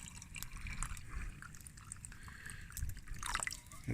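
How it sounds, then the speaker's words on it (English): Water pours and trickles softly into a cup holding tea bags, a quiet, steady liquid stream with a few faint drips. "I got my cup there with my tea bags in, pouring my water."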